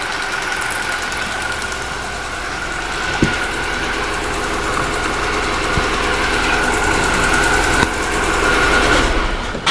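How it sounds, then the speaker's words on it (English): A 2020 Ford Escape engine runs at a steady, close, loud idle with a persistent hum and a few sharp clicks, the sound thinning toward the end as it shuts off. "let me shut off the engine"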